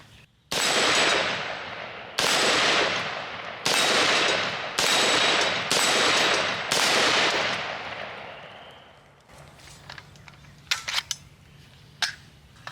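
Gunshots ring out at an outdoor range, aimed at small steel plate targets 30 yards away: six loud, sharp cracks spaced a second or so apart, each trailing a long echo, then a few fainter clicks and knocks.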